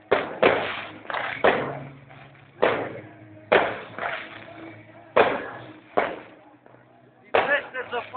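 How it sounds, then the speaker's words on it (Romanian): Sharp booming bangs with echoing tails go off repeatedly, roughly once a second, while people talk between them. "Faine artificiile"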